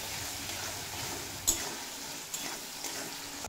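Potato and bottle gourd frying in a pan with turmeric and salt for a simple vegetarian curry, heard as a soft, steady sizzle with a few faint stirring clicks.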